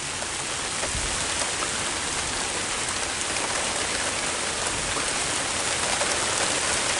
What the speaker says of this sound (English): The rain is now picking up in its intensity